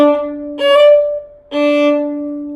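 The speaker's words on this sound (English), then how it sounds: "a grace note, which is a little ornamental note before the main note" Violin playing a phrase from Gossec's Gavotte, two sustained bowed notes each opened by a quick ornamental grace note, clear and solo with no talk.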